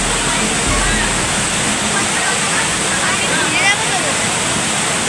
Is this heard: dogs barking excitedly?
no